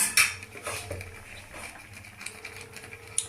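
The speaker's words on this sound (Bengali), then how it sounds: "আবার আমি ঢাকা দিয়ে দিচ্ছি।" A lid is set onto a cooking pot of tomato sauce in a home kitchen, a few light metallic clinks and clatters, fairly quiet, with no talking.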